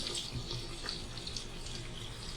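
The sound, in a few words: pouring water into a pot of balti gosht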